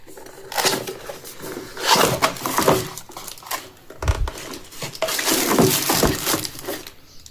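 Cardboard box of a Dell KM3322W wireless keyboard being opened close up, with bursts of scraping, crinkling and tearing rustles and a few dull knocks spread over several seconds.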